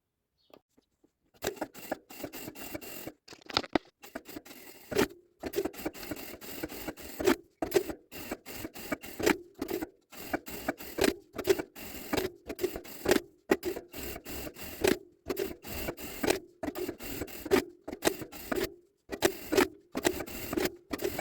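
A domestic sewing machine topstitches a fabric Bible cover with a width-3 stitch, running in repeated close bursts of rapid mechanical clatter separated by short pauses, steady and loud with no talking.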